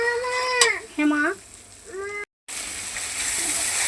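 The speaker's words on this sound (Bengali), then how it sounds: "অল্প একটু পানি দিয়ে ভালো করে এখন কষাই নিব।" A voice sounds briefly at first. After a short dropout, spices with ginger-garlic paste, ground coriander and cumin sizzle in a pan with a little water, giving a steady, close hiss.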